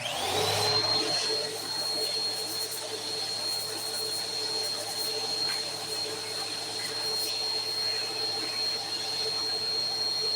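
A vacuum cleaner runs steadily with a high whine over a continuous airy roar, fairly close, alone without any talking.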